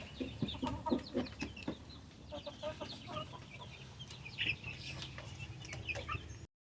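Hens clucking in a farmyard while eating breakfast, with overlapping cackles and soft clucks close by, one bird kicking feed out of a bucket, and scattered bird calls around them.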